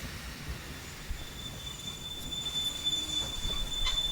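A train at a busy station in the Train Empire video game rumbles steadily with wheel squeal and a high metallic whine, growing slightly louder toward the end, with no talking.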